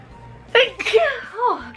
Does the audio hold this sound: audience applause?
no